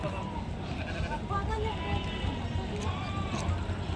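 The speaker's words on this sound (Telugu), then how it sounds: "ఇక్కడ ఒక పొట్టేలు ఉంది." Sheep bleat at the busy Saturday livestock market in Angallu, among them a ram, with short calls mixed into steady crowd chatter and nearby talking.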